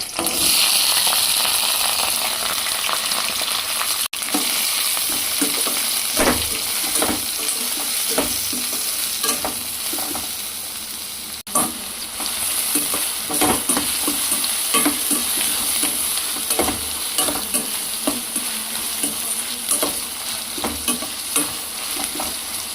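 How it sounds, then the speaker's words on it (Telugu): Onions, green chillies and curry leaves fry in hot oil, a dense, continuous close sizzle broken by repeated scraping and stirring strokes, with no talking. "ఉల్లిపాయలు వేగిపోయినాయి"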